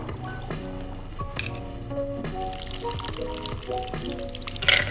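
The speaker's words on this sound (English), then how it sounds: "we're just gonna pour that in over our glass" Vodka Old Fashioned poured over a big block of ice in a heavy glass, with liquid trickling and ice clinking against glass, close and moderately quiet, alongside a few clinks of bar tools.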